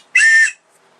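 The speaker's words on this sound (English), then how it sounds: "Now this is an ITW whistle." An ITW survival whistle gives one short, shrill, piercing blast of about half a second, loud and close, followed by quiet.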